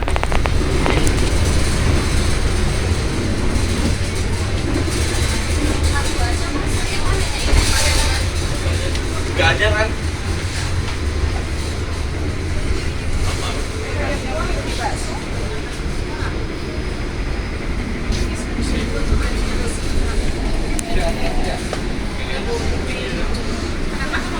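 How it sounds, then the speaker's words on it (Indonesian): Inside the dining car of the Progo night train, a steady rumble of wheels and carriage noise runs throughout, with a person talking over it and occasional clacks and rattles. "seperti inilah suasana di kereta makan"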